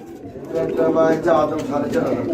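Fancy pigeons, including a young female, coo in soft repeated phrases close by, with voices talking faintly in the background.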